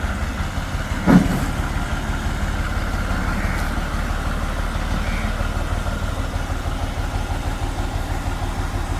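A tractor engine idles with a steady low rumble and chugging rhythm, a brief knock early on, no voices.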